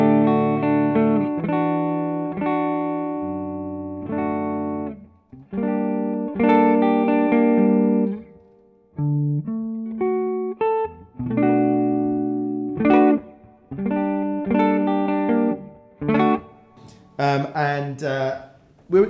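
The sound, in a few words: electric guitar played alone without pedals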